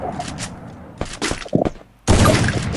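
Bursts of gunfire from the Free Fire video game crackle in rapid clusters, with short pauses between volleys and a dense final burst.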